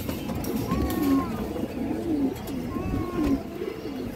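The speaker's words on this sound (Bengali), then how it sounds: "খুব সুন্দর একটা বেজি মাদি কবুতর, নিউ অর্ডার।" A female Bezi pigeon coos in soft, repeated low rolling phrases, close by against a faint background hum.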